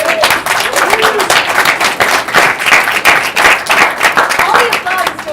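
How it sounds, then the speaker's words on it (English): A film festival Q&A audience claps loudly and densely, with someone speaking over the sustained applause. "All the applause is going right to my head, so keep it coming."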